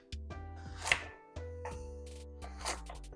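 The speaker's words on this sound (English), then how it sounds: "So cut it lengthways like this" Sharp knife chops through carrots and celery on a cutting board at an uneven pace, several close crisp cuts with short pauses between them.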